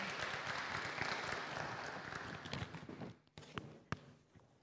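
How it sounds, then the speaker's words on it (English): Audience applause at a young professionals convention greets the convention chair walking up to the stage, a steady clatter of clapping that thins toward the end with a few scattered claps. "A round of applause as our convention chair comes"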